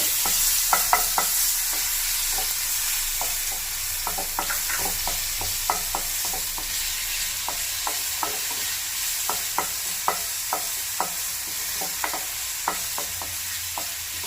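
Onions sauté over a low flame with ginger garlic paste in a pan, under a soft continuous sizzle and a rhythmic run of close spoon scrapes and taps across the whole stretch, no voices.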